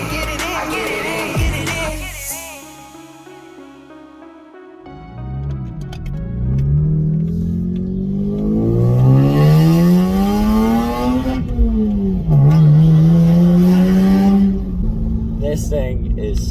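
A loud Lexus engine revs repeatedly, pitch climbing and falling in long sweeping surges, close and aggressive, with music and some voices at the start.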